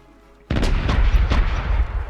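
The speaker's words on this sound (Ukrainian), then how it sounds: "зараз побачите, як виглядають постріли" Ship cannons firing in the pirate naval game Corsairs Legacy: after a quiet lead-in, a sudden loud roll of booming shots erupts and continues in quick overlapping blasts.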